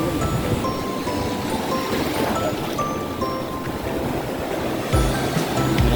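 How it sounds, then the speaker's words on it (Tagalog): Ocean waves washing at sea around a fishing boat during net fishing, a constant loud rushing wash with a brief swell near the end, no talk. "Maraming alon, no?"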